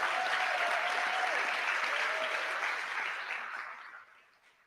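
A banquet hall audience at a convention awards dinner gives a round of applause for the winners, with steady dense clapping that gradually fades over the last second or so.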